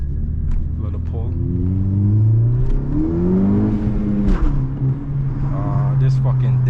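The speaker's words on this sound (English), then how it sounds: "Y'all hear that exhaust though, right? It's the AWE." A turbocharged Honda Civic Si with an AWE exhaust pulls hard: a loud, steady engine drone rises and sweeps in pitch as it accelerates, heard close from inside the car.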